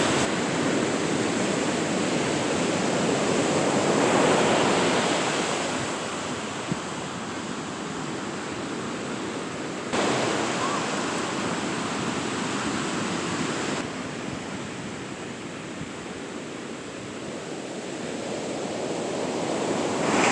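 Ocean surf rolls steadily onto Sharp Park Beach on the California coast, a broad continuous wash of breaking waves that swells and eases, with some wind noise on the microphone and no talking.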